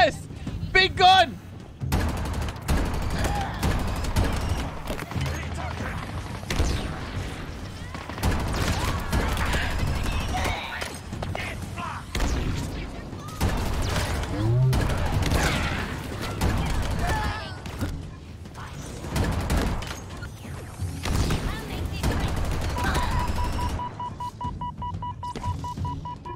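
Heavy gunfire from a big gun in Halo Infinite, bursts of loud shots and booms scattered across the stretch, mixed with game sound effects and a voice talking excitedly over much of it.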